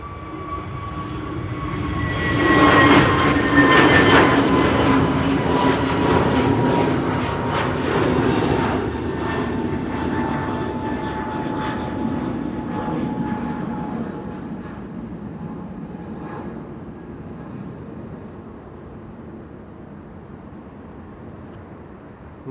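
A jet airliner, a TUI Dreamliner, takes off from runway 09 at Amsterdam Schiphol Airport, its engine roar swelling loud and broad, then slowly fading as it climbs away with a falling whine.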